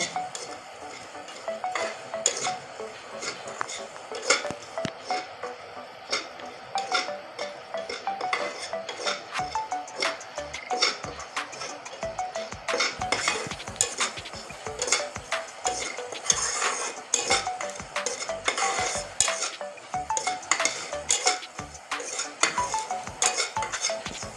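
Metal utensil scraping and clinking against a pan as cumin and salt are stirred and dry-fried, with a faint sizzle underneath; steady, close, no talking.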